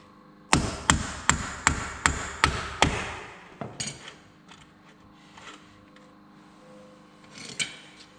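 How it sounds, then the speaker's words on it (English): A front axle bearing being hammered into place on a Smart Fortwo: seven loud, evenly spaced metallic blows close up, followed by a few lighter taps and quieter workshop rattles. "if you hammer it in like that, that probably wasn't the best idea"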